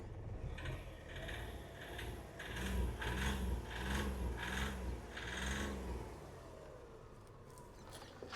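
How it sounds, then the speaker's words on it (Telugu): A 2015 Hyundai i10 petrol engine revved several times while parked, rising and falling in a rhythmic series of five or six short revs over a low idle, heard from close by at moderate volume. "రేస్ చేస్తున్నానండి"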